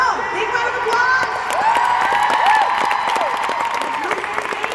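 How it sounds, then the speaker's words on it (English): Applause and cheering from an audience at a live show as a woman is invited on stage, steady clapping mixed with whoops and crowd voices throughout. "Big round of applause"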